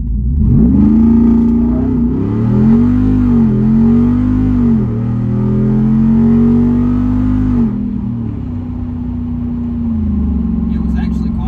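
A Jeep Wrangler JL Rubicon 392 accelerates hard with traction control on, its V8 a loud rising roar that sweeps up and holds before easing off, heard from inside with a voice over it.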